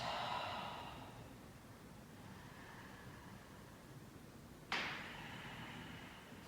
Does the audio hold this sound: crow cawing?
no